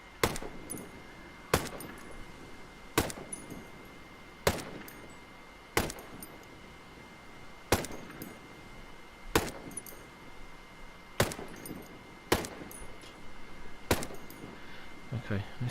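An ARX200 rifle without a suppressor fires single, well-spaced shots in Ghost Recon Breakpoint. Ten or so sharp cracks land at steady intervals of about one and a half seconds over a low background hum, and someone talks quietly between some of them.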